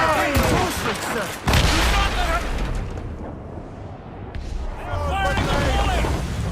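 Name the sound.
ship cannon volley in video game Assassin's Creed Rogue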